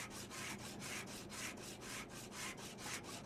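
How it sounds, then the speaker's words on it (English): In the Car Dealer Simulator game, a handheld sander works over a rusty car body in rhythmic back-and-forth abrasive strokes, about eight even passes, loud and close with no talking. "So we're just gonna use the sander."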